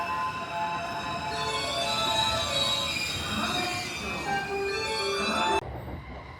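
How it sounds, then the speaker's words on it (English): A local train rolls into a Japanese station with a sustained metallic squeal of wheels and rumbling carriages that fades near the end, followed by quieter ambience. "The local train will arrive shortly."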